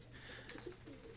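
Racing pigeons give soft, faint coos in a short burst, quiet and close against low background noise.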